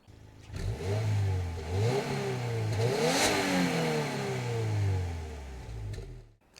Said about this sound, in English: so the exhaust isn't going to blow your eardrums, it's muted